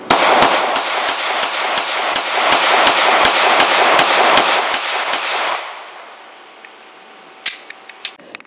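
Rapid string of about a dozen sharp gunshots from a Colt M45A1 .45 pistol, a Marine Corps Model 1911, fired in steady succession over five seconds, loud and close, then a quieter pause with two more isolated sharp reports near the end.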